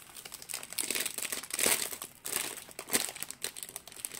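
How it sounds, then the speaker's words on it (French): A sausage-shaped plastic bag holding a diamond painting kit is opened by hand, giving continuous close crinkling and rustling with a few louder crackles and no talking. "c'est dans un plastique comme ça en boudin. Je vais l'ouvrir"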